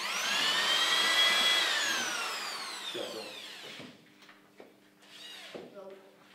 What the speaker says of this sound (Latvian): un skrūvējam klāt sānu detaļas